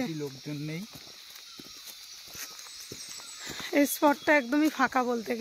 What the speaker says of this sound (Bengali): একদম নির্ঝুম, তার মধ্যে ঝিঝি পোকা ডাকছে